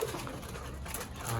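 Saharanpuri pigeons in a loft give low, soft cooing calls close by, murmuring continuously with slight rises in pitch and no speech over them.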